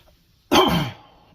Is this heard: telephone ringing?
no